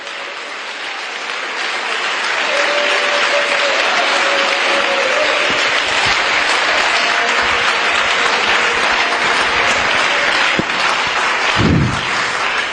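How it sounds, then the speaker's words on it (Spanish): A church congregation breaks into sustained, loud applause that swells quickly and continues steadily for several seconds, with a brief voice rising near the end. "Dele ese aplauso a la presencia de Dios."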